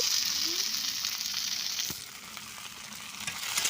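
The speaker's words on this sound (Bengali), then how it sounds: "এই যে দেখো এদিকে রান্না হচ্ছে কি টমেটো আর আলু দিয়ে তরকারি বানাচ্ছি" Tomato and potato curry sizzles and fries in a pan, a steady close crackle with a brief stirring scrape midway.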